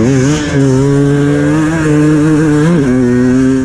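A two-stroke motocross bike races through the woods, its engine revving in a loud, raspy, high-pitched wail that stays close and nearly continuous, with a brief dip as the throttle is blipped.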